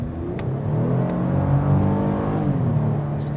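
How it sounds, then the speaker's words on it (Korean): A naturally aspirated V6 gasoline engine in a 2021 Chevrolet Colorado Z71-X with an 8-speed automatic revs smoothly upward with a rising, throaty tone, heard from inside the truck, then eases off slightly. "이 V6 엔진만의 사운드가 상당히 듣기 좋죠."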